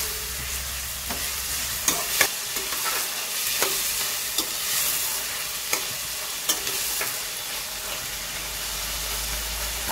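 Onion and tomato fry together in a pan, a loud, continuous hissing sizzle punctuated by regular clicks and scrapes of a stirring spoon.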